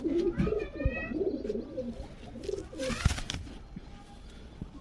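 Pigeons of a low-flying breed coo in a burbling, repeated run, fairly close, with a few higher chirps and a brief wing-flap burst midway; no talk.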